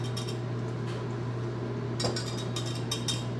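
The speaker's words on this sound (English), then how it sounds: "using a whisk, we're going to whisk that together so that the flour becomes this light brown color" Dry flour being whisked in a bowl for carrot cake muffins: a light, rapid clinking and scraping of the whisk against the bowl, steady and fairly quiet, with a few sharper clinks near the end.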